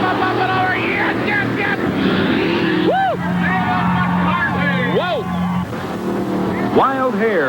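Racing engine of Bob Breen's boat Wild Hare, a center-mounted engine, roars steadily and loud at a race, with an excited crowd and commentary over it and whistle-like sweeps cutting through.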